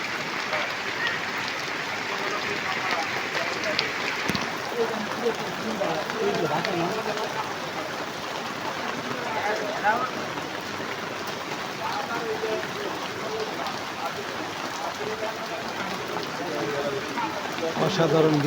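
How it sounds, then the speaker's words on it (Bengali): Heavy rain pours down over Dhaka city as a constant, soft wash of hiss that holds evenly throughout, moderately quiet and unbroken. "কঠিন বৃষ্টি হচ্ছে, কঠিন।"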